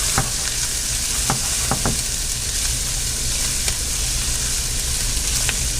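White onions and garlic frying in a pan while being stirred, a steady bright sizzle with a few sharp scraping clicks of the utensil, close and continuous with no talking.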